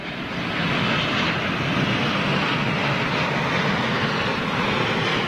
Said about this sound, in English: Here's another Dreamliner for you.